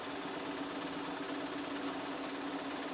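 Sewing machine stitching quilt pieces, a steady continuous mechanical hum and whir heard close and fairly faint throughout, with no pauses.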